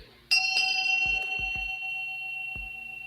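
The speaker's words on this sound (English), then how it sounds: "It's like the ship's bell." A ship's bell struck once with a sharp, bright clang whose clear tone rings on and slowly fades, with a few soft knocks and handling sounds underneath.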